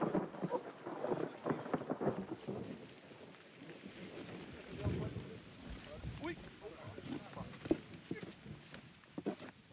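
Low rumbling thunder rolls beneath steady rain, with irregular thumps and bursts; the storm sounds fairly near and moderately loud throughout.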